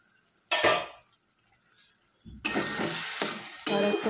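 Snail (gugli) curry frying in a pan while being stirred, heard as a short burst of sizzling scrape, a pause, then louder continuous stirring and sizzle near the mic with occasional clinks.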